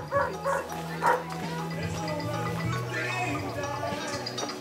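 A two-year-old dog barks and yips in a few short bursts near the start, then whimpers and whines more steadily, with someone talking over parts of it.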